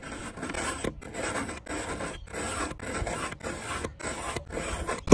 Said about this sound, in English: use this to sharpen the knife. I guess this is the tungsten.